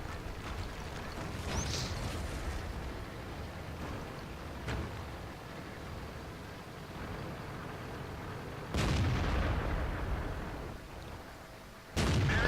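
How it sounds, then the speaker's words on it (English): Tank cannon shots from the Tiger II in World of Tanks boom out in a few sharp blasts over a steady rumbling engine and battle ambience, with no talking. "I rushed a shot at the back of his tank."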